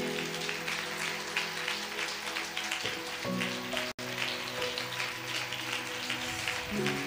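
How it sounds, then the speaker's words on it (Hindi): A church congregation applauding loudly during a Hindi sermon, dense continuous clapping with a brief dropout midway and a low musical tone underneath. "क्या हम जोर से जीवित परमेश्वर के लिए ताली बजा सकते हैं?"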